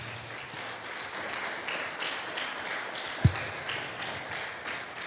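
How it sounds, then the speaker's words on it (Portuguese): A church congregation applauds during a Portuguese-language sermon, a steady, fairly faint wash of clapping lasting several seconds, with one sharper tap standing out partway through. "Aplauda o nome do Senhor Jesus."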